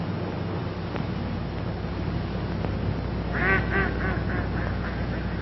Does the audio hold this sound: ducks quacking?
yes